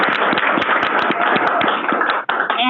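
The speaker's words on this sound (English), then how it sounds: "You guys can clap." A small group at a school board meeting claps for a kindergartner's book: a close, lively patter of individual hand claps that runs for a couple of seconds, then stops abruptly.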